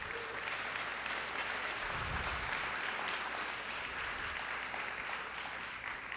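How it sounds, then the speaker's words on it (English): At a college fall convocation ceremony, a crowd applauds steadily and continuously for a staff member, a dense wash of clapping at moderate distance with no speech over it. "let's give her a round of applause"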